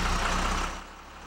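A big rig truck carrying a mobile nursing lab rumbles with a deep, heavy engine note that drops off and fades partway through, nearby and without voices.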